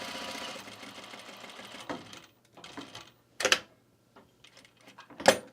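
Sewing machine stitching a dart on a blouse: a fairly quiet run of stitching at first, then several short separate bursts of the needle whirring with pauses between them.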